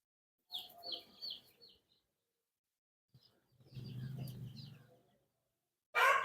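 Three-day-old Kaveri breed chicks chirp and peep nearby in short bursts separated by quiet gaps, with some faint rustling.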